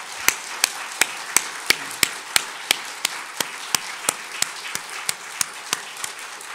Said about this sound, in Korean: 우리 하나님께 크게 영광의 박수를 칩시다.